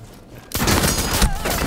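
Rapid gunfire erupts in Rainbow Six Siege, a sudden dense burst of shots that carries on as a loud continuous fusillade after a brief quiet start.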